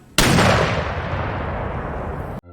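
A Hotchkiss mountain gun, a 1.65-inch cannon in the FPS game Unsung Heroes 1898, fires a single loud close blast that booms abruptly and rolls off in a long decaying rumble.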